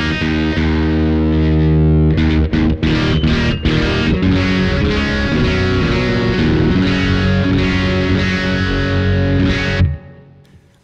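Electric guitar run through a Tech 21 Sansamp GT2 distortion pedal, playing loud, heavily distorted chords and riffs with a few choppy rhythmic stabs, then ringing out and cut off near the end.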